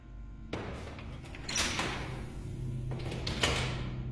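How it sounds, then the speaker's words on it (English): A door shuts on its own in a quiet house at night, heard as a sudden thud followed by rattling and knocking through a low background hum, with another knock near the end. "this door was open, and now it just shut by itself"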